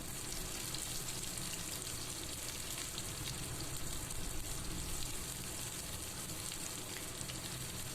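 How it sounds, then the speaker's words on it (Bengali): Onion frying in a pan, heard as a steady, even hiss of sizzling oil at moderate volume with faint stirring, and no voices. "এবার পেঁয়াজটা একটু ভেজে নেব"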